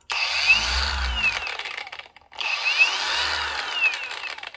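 A Wakyme 20 volt cordless angle grinder spins up to a loud, steady high whine, winds down briefly to near silence, then spins up again and runs on, close to the listener.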